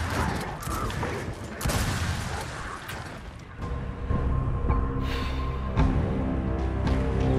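Rapid bursts of gunfire in the Gears of War 4 video game, rattling volleys followed by sustained mechanical game noise, loud and continuous without talking.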